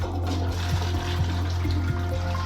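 An airport toilet at Changi Terminal 4 flushes with a steady rush of water, a continuous close-up gush with faint rhythmic gurgling pulses underneath.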